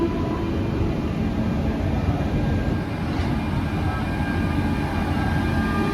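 Low continuous rumble of the Vibhuti Express, with a new LHB rake, rolling out of the station, steady and fairly loud with no voices.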